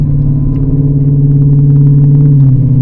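A Whipple supercharged Ford Mustang S650 driving, heard from inside as a loud, steady engine drone with a slight pitch change near the end as it shifts, dense and close, no voices.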